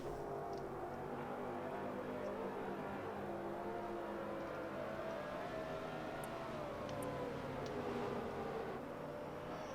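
RC race cars pacing on a track at Miami RC during an XRS Cup race, their electric motors giving a faint, steady whine that rises and falls as they circle at a distance.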